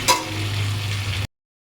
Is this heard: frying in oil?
yes